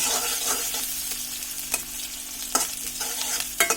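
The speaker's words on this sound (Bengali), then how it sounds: "পেঁয়াজটা হালকা একটু ভাজা হোক।" Onions frying in a pan give a close, steady sizzle, broken by several sharp spatula scrapes as they are stirred.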